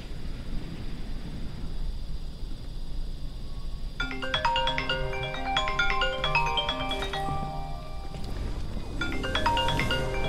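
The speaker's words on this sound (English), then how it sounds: "Sorry about the phone scam call." A phone ringtone from a scam call during gameplay of Fortnite Chapter 5, a bright melodic electronic ring starting partway in and repeating over a steady background hum.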